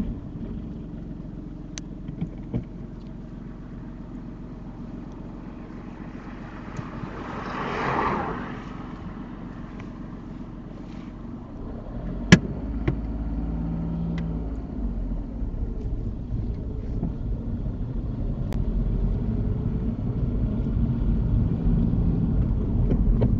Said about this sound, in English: until the car is stopped.